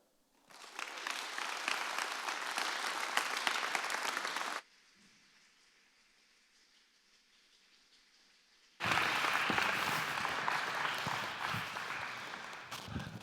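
Chapel audience applauding to welcome guests: a burst of dense clapping for about four seconds, a quiet gap, then a second loud round of applause that slowly tapers.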